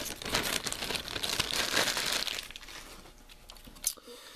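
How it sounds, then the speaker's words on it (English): A juvenile Tyrannosaurus rex figure being unboxed from its plastic packaging, with close, continuous crinkling and rustling of plastic that thins out into a few sparse crackles near the end. "Open this up. Take a closer look at this figure outside of the plastic."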